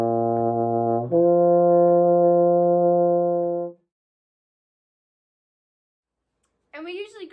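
A brass instrument works down through the partial series in a warmup, holding long slurred tones that step from one partial to the next, close and full, then silence before a voice briefly starts speaking.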